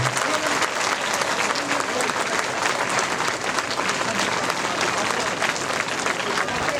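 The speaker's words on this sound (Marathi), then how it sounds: "आपण सर्वांनी खूप जोरदार टाळ्या वाजवायत." An audience claps loudly and continuously, a dense, sustained wash of applause from a large crowd at a public gathering that lasts the whole time without pause.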